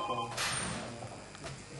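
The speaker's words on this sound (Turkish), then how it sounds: "Bir telefonumuz var." A telephone rings briefly during a live Turkish TV broadcast, a short bright burst of ringing fading into the studio background.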